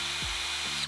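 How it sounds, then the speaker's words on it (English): An 8mm bit drills a hole into the center of an end cap, a steady high whining grind that holds for about a second, dips briefly partway through, then cuts off abruptly, close and alone. "I got my end cap and drilled a hole into the center using an 8mm drill bit"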